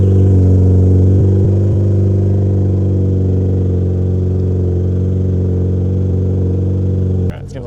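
Nissan GT-R R35 engine running on E85, heard close and loud as a steady deep idle with a strong low drone, brief uneven stumbles early on, and a sharp click near the end as the level drops.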